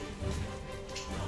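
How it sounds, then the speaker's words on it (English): Rain falls steadily outside a car with its doors cracked open, a brief soft wash of patter at moderate distance with no talking. "It's raining, huh?"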